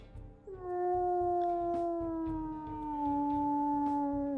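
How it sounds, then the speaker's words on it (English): A single long, deep wolf howl in the video game WolfQuest, rising quickly and then sliding slowly downward, loud and close, with a low background hum and no talk. "we'll listen to her howls here."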